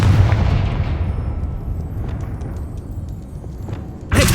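A heavy, booming blast from a Confringo explosion spell in a video game, loud at first and decaying into a rumbling tail over several seconds, then a sharp new burst of noise at the very end.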